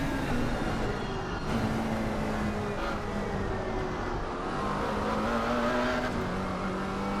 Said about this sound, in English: Hear the engine there on that McLaren juddering just a little bit.